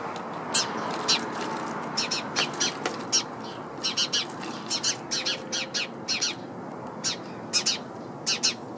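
A small bird trapped inside a bird feeder gives repeated sharp squawks and chirps in short bursts, fairly close, over a soft background hiss.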